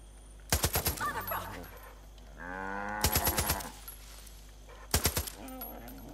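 Rapid bursts of gunfire from Far Cry 5 ring out in three short volleys, loud and close, with a drawn-out cow moo sounding between them and no talk over the shots.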